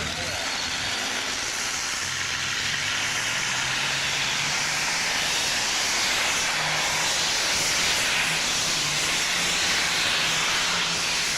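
A tractor-pulling machine powered by an aircraft engine at Prickings Hof in Haltern am See, Germany, in 1998, giving a loud, unbroken roaring hiss that holds steady throughout.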